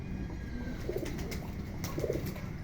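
Green pigeons, a flock of about 100 to 150 gathered to bathe, coo softly in low, rolling bursts over a steady background hum, a couple of throaty calls rising and fading nearby.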